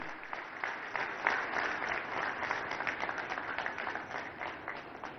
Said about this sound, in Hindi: आदरणीय मोहन यादव जी का ऐतिहासिक तालियों के साथ स्वागत